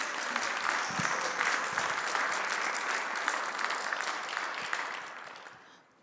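Indoor audience at a fashion archives salon gives a warm round of applause, full steady clapping that gradually thins and fades out toward the end.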